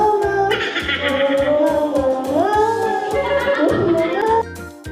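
A person sings the happy birthday tune in drawn-out cow-like mooing, a voice imitating a cow, close and loud over a pulsing low backing beat, the wavering melody ending abruptly.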